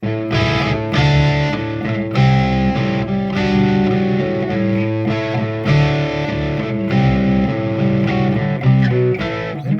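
An electric guitar plays heavy distorted chords through a Donner Hush X Pro, loud and close, with strummed hits and sustained tones that ring on, and no voice.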